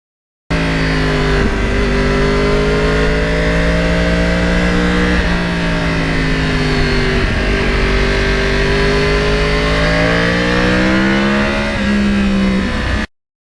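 Yamaha R1 sport motorcycle ridden on back roads, with a loud, close engine drone that rises and falls through several gear changes and throttle blips, steady throughout without talk.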